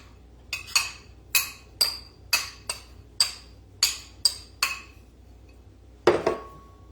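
Flour is stirred into a bowl with a utensil that strikes the rim in about a dozen sharp, ringing clinks at an uneven rhythm, close and fairly loud, ending with one heavier knock.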